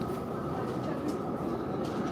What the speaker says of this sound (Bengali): এই যে মেট্রো এসে গেছে দেখেন